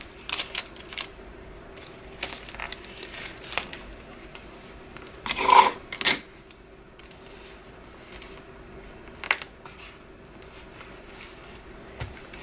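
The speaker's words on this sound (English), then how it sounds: "I'm just gonna go ahead and tape this down" Adhesive tape is pulled and pressed down to hold an item in place: scattered short tearing and crinkling sounds, a louder double rip in the middle, quiet between.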